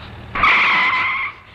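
A car brakes sharply, its tires letting out a loud, single skidding screech lasting about a second before cutting off.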